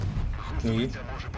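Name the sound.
tank cannon shot in video game WoT Blitz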